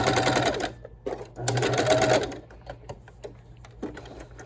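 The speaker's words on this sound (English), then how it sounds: "It helps if we turn on the sewing machine." A home sewing machine stitches fabric for a stuffed toy in loud mechanical bursts, running for about a second and a half, pausing, then running again with lighter clicks between.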